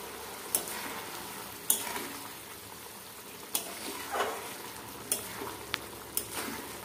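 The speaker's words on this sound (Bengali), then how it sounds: "এবার এটাকে আমরা ভালো করে মিশিয়ে নেব" Broccoli dish with fresh coriander leaves being stirred in a pan, a soft steady sizzle broken by several sharp spatula scrapes and clinks at irregular intervals, close and moderately loud with no talk.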